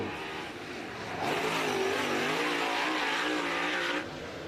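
A race car on a qualifying lap at a Clarksville short-track event swells in as it comes by, its engine note rising and sustained for a few seconds before dropping away, heard at a distance and fairly faint.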